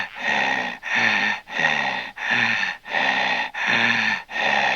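A voice imitates horror-film heavy breathing: seven loud, close, rasping breaths in a steady slow rhythm, each a long harsh inhale or exhale with brief pauses between.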